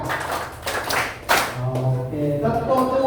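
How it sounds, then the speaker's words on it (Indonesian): Schoolchildren in a classroom clap out the "tepuk Indonesia" rhythm pattern, a few sharp bursts of claps mixed with children's voices, fairly close and moderately loud. "kita lakukan tepuk Indonesia"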